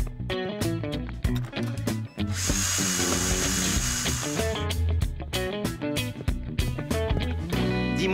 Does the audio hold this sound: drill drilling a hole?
yes